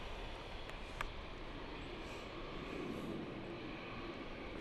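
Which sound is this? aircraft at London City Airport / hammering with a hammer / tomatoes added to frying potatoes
aircraft at London City Airport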